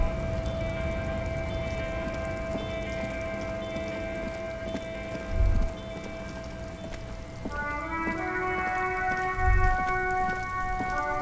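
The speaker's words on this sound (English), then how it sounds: "All around you, rain falls on the great city of Revachol." Rain falling on the city of Revachol in the game Disco Elysium, a steady patter of drops beneath sustained, layered musical tones, with two soft low thumps along the way.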